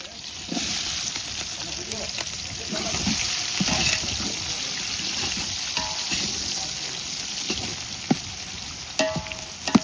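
Sliced onions for a quail curry sizzle and crackle steadily in a hot pan, with occasional stirring knocks and a few sharp clicks near the end.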